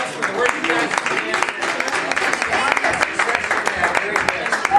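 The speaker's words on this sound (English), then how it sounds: "So let's give everybody a round of applause for the work you guys are doing." Steady, dense applause from the audience fills the room at a county 4-H livestock club awards ceremony, with scattered voices blended into the continuous clapping.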